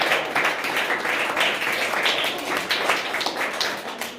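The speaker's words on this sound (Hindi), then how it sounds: "साथ जोरदार तालियों से स्वागत करते हैं" A school gathering for an exam results announcement gives visiting guests a hearty welcome, dense close-by clapping from many hands filling the whole stretch at a steady, fairly loud level.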